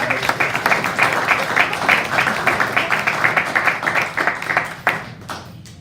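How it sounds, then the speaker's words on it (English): Town hall audience at Johnson Fain applauding after a band's performance, a dense steady wash of many hands clapping that tapers off near the end. "Let's give a round of applause."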